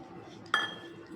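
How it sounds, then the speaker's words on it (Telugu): A whisk strikes the side of a bowl once with a sharp metallic clink while mixing a runny gram flour batter for chilli bajji, the ring fading quickly. "ఇలా విస్కర్తో నీట్గా కలుపుకొనేసి"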